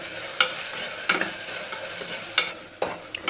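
Onions and tomatoes sautéing with salt in a pan for chicken biryani, a soft continuous sizzle broken by a few sharp scraping strokes of a spoon stirring, fairly quiet and close, with no talking.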